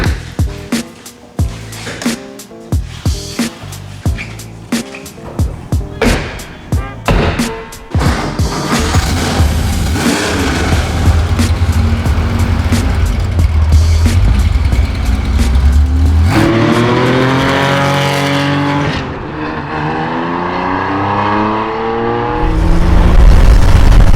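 A 1973 Porsche RSR making 320 hp starts with a string of sharp, loud, evenly spaced engine pulses, then roars into a sustained, dense, full-throttle drone with rising and falling revs as it drives hard, close and loud throughout.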